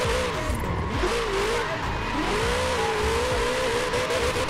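Studebaker car engine revving hard during drifting in the video game Forza Horizon 4, a loud continuous rising and falling engine note with possible tire squeal, steady throughout.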